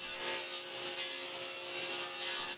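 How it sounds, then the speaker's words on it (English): Table saw cutting plywood pieces for workbench trays, a continuous steady whirring rasp of the blade through the wood, close and even throughout with no talk. "I can power on the table saw with my foot. Then I proceed to cut out all the plywood pieces"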